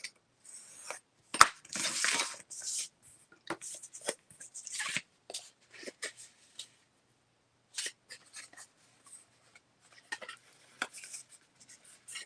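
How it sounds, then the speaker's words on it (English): Light scraping and tapping of a blade lightly scoring paper for a model railway building, short scratchy strokes in irregular bursts with pauses, close and quiet, no talk. "we're going to score these very lightly so we can make that fold into the corner"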